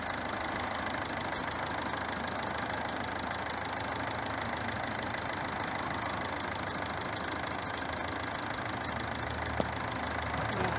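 A Mazda MX5 engine idles steadily with a dense, even mechanical rumble and faint ticking throughout. No voices are heard over it.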